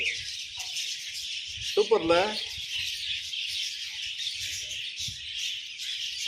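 Birds call inside a bird park aviary, a dense high chirping chorus running throughout, with a brief louder squawk partway through and someone talking over it.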